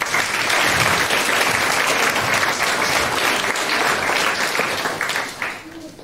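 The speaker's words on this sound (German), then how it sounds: "einen großen Applaus zu Clean Air Everywhere" Enthusiastic crowd applause at a youth hackathon's final project presentations in Hamburg, loud sustained clapping from the audience that holds steady for several seconds, then tapers off.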